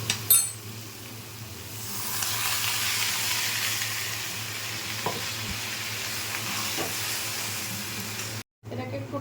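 Water poured into a hot pan of cabbage kaliya sets off a loud, steady sizzle and frying hiss that runs for several seconds, with a faint clink of utensils and a low background hum.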